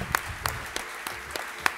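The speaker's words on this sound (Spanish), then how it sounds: "también pido un fuerte aplauso para todos ustedes" Sparse, sharp hand claps ring out at a slow, uneven rhythm at the 2017 Nuevas Miradas awards ceremony, a small scattering of applause rather than a full crowd.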